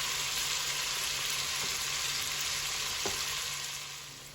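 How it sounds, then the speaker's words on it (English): Onions sauté in a pan for southern-style green beans, a constant close hissing sizzle with a couple of faint utensil taps, easing slightly toward the end; no one speaks. "So in with the onions, we're going to saute that a little bit while I prepare my garlic."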